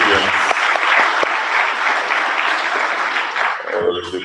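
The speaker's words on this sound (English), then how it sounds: "Let's give a round of applause to all" Audience at an ICTAZ awards ceremony claps for award recipients in a dense, steady round of applause lasting several seconds, with a voice speaking briefly at the start and again as the clapping thins out.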